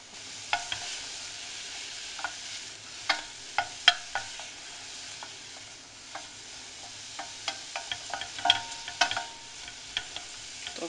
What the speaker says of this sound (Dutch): nu hoor je dat het gaat sisselen